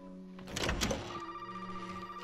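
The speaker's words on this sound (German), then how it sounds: "Telefon." An old telephone rings in the Resident Evil 7 horror game, heard as a bright ringing burst followed by a sustained electronic tone fading under a quiet ambient drone.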